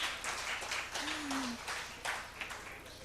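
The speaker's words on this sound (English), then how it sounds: "Give him a clap also." Faint, smeared applause from an audience at a technology conference session, soft and distant-sounding under the room's background hum, with a brief whistle-like tone partway through.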